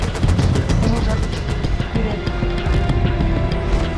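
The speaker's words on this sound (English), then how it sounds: "Strike 6 spots the target and marks it with his machine gun" Machine gun fire in Battlefield Bad Company 2 rattles in dense, rapid bursts, layered with booming explosions and battlefield noise that stays loud throughout.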